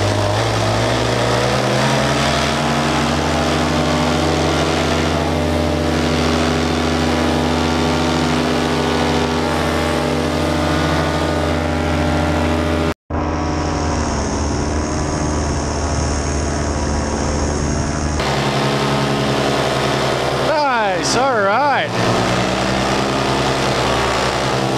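Paramotor engine during a takeoff in northern Wisconsin, a loud continuous droning buzz that holds steady and then shifts in pitch as the craft climbs, with a brief dropout partway through.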